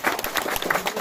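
Village audience at a community event in Sidorejo, Purworejo, a neighbourhood watch post competition, clapping in a steady, moderately loud burst of applause that lasts briefly.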